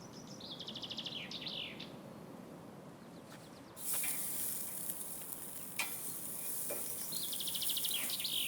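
Wagyu steak sizzles over an open fire, a soft steady crackle and hiss with birds chirping outdoors and a brighter burst of sizzle midway.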